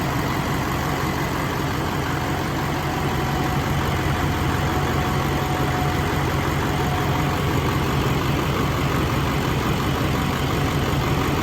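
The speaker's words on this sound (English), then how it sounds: "Motor sounds good, no funny noises." An LBZ diesel engine idles steadily, a dense even rumble with a faint whine running through it, close and unbroken for the whole stretch with no voices.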